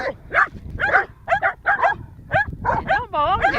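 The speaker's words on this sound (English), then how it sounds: "My dog found a turtle out in the field." Dog in an outdoor field barks and yips repeatedly in short, uneven bursts, close and loud, with a few whiny, wavering tones near the end.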